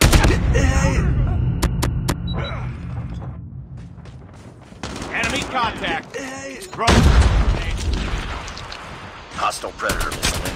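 Explosions and gunfire from a predator missile strike in Call of Duty Mobile on the Nuketown frontline map, heavy booms and rattling shots coming in loud bursts that start, drop away, then return, with game voice callouts over the top.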